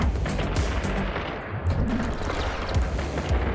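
Enemy ship weapons pound a player's ship in Eve Online solo PvP combat, with repeated booming impacts and gun-like bursts in quick succession, loud and continuous.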